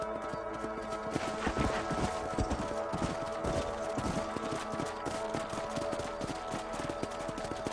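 Horse hooves clip-clop steadily throughout as a rider travels on horseback across a ranch range in the video game Red Dead Redemption, with a continuous rhythmic trot over constant ambient background.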